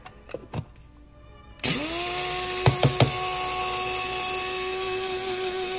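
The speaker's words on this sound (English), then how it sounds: "I put them in a coffee grinder." After a few light clicks and taps, an electric coffee grinder starts loudly on flax seeds and keeps up a steady high-pitched whir close by, with a couple of rattling knocks as the seeds spin.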